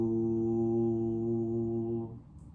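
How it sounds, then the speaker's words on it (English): A single sustained voiced "vu" sound made on an out-breath, hum-like, steady and close, held for about two seconds before trailing off into quiet. "in the out-breath we'll make the sound VU"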